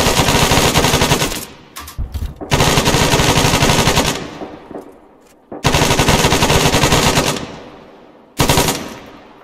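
Loud, close bursts of automatic gunfire in the military shooter game Arma 3, several sustained volleys separated by short pauses, with no talk over them.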